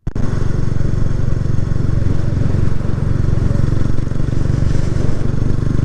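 Kawasaki 250TR motorcycle cruising along a road in Hokkaido, its engine a steady, loud, continuous drone with wind noise throughout, heard close from the rider's position.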